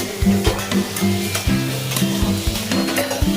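Boiled young jackfruit being sautéed in a pan for katahl kosha, with steady close sizzling and frying broken by repeated stirring scrapes and knocks.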